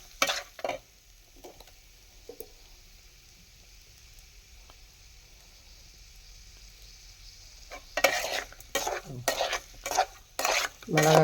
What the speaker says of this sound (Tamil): மிளகாய் காரம் போகிற அளவுக்கு ஃப்ரை பண்ணுவோம்.